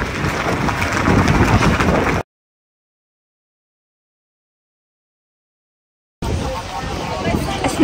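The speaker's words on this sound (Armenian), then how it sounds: "որովհետև շատ ուժեղ քամի է" Strong wind sweeps across a harbour on Maui, Hawaii, where tugboats position a large cruise ship for docking; a loud, steady broadband roar of gusts fills the start and end, broken by a stretch of silence in the middle.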